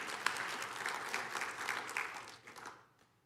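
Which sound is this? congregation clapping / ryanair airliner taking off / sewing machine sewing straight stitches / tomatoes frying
congregation clapping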